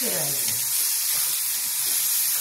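Finely chopped tomato goes into a pan of sizzling cabbage stir-fry with soaked moong dal, giving a loud, steady hiss and sizzle close up, with a brief spoken voice near the start.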